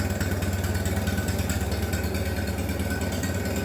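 A rebuilt Minneapolis Moline BF tractor engine runs steadily with no exhaust fitted, a loud, close, even chugging idle with a rapid regular beat throughout.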